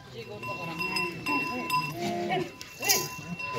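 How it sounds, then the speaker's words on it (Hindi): A young goat kid bleats on a goat farm, several short wavering cries close by, mixed with people talking and occasional light clinks. "बकरी का बहुत ही प्यारा बच्चा है।"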